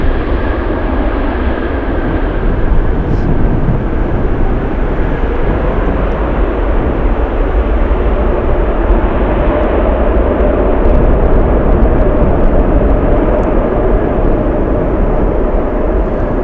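A heavy cargo airliner arriving from Hong Kong lands on runway 15 at Anchorage in gusty wind. The engine roar is loud, broad and continuous, with a steady rumble and rushing air throughout.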